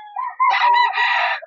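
A single rooster crows nearby, one loud, drawn-out call with a rising start and sustained harmonic tail, clear and alone with no talk over it.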